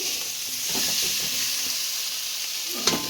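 Green jackfruit curry stir-frying in a pan at home, a steady loud sizzle and hiss throughout with intermittent scraping and stirring strokes of a spatula close by.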